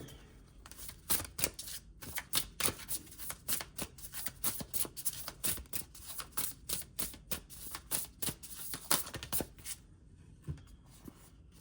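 Playing cards being shuffled and handled up close, a long run of quick crisp riffles and flicks in uneven bursts that taper off toward the end.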